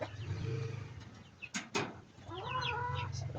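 General Shamo hens and chicks at a nesting pen, with steady clucking and soft chirps through most of the clip, a couple of louder bird calls near the middle, and a low hum underneath.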